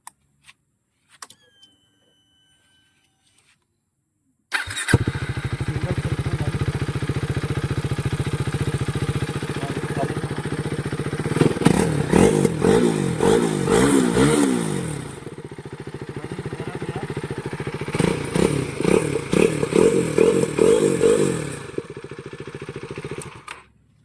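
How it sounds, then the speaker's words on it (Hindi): A KTM Duke 390 motorcycle fitted with a Dominar block piston starts after a few faint clicks, then settles into a steady, loud idle close by. Throttle blips rev the engine up and down in two stretches. "तो अभी मैं आपको गाड़ी चालू करके बताऊंगा।"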